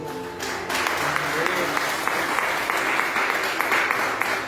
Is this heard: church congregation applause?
yes